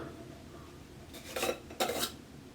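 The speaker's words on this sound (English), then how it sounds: "Now the texturing wax, opening it up" Two short scraping, clinking bursts close by as the lid is twisted and pulled off a small container of hair texturing wax, over quiet room tone.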